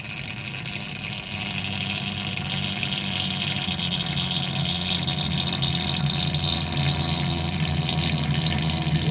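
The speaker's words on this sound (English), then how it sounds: "This tub is only like 60 or 80 gallons, and it's going to be drained in probably a minute" Water from a 60 to 80 gallon duck tub rushes out through a 2-inch pipe in a steady, loud, continuous gush with a low churning undertone, unbroken throughout.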